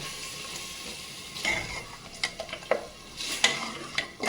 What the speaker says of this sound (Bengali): এখন আমি প্রেসার কুকারে কষিয়ে নিব সুন্দর করে।